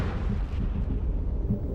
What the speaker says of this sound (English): This film shows what happens during an explosion